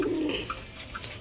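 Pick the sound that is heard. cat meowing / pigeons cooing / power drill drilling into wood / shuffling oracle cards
pigeons cooing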